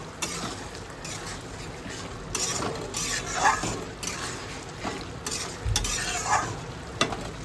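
Food cooking in golden Kolkata ghee is stirred in a pan, with repeated scraping strokes over a soft sizzle, several louder spoon knocks and scrapes coming in uneven bursts, close and clear.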